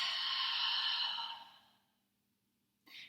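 A long, loud exhale during a yoga flow class, a breathy rush that fades out over about two seconds, followed by silence and a brief soft breath at the end.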